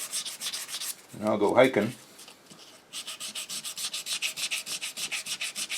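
Sandpaper of 320 grit rubs back and forth over a wooden Weihrauch HW30 air rifle stock in a fast, even rhythm of close strokes, broken briefly by someone speaking.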